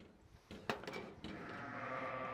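Sheep bleat close by on a farm, a few drawn-out ewe calls rising over faint background noise, with no talk.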